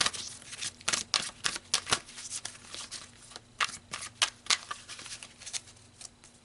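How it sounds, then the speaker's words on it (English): Tarot cards being shuffled by hand, crisp riffling and slapping bursts repeating close up in an irregular rhythm with no talking. "So let's pull some more cards"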